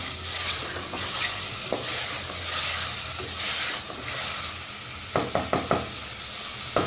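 Chicken masala sizzles and fries in a pan while being stirred, a continuous hiss with soft scraping strokes, then a few sharp taps of the spoon against the pan near the end.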